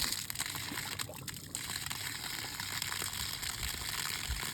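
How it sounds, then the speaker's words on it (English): Water rushes steadily into a frost-free outdoor spigot pipe, a continuous close hiss and gurgle with no voices. "That's just the water going in, and then when you close that up, it drains down and it comes out that little weep hole"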